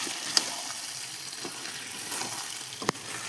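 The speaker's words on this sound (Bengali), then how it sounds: "এবার আদা রসুনের পেস্টটা দিয়ে এবার কষাবো।" Meat sizzles steadily in a pan after frying, with ginger-garlic paste added for braising. A few sharp clicks and clatters from stirring rise over the continuous hiss.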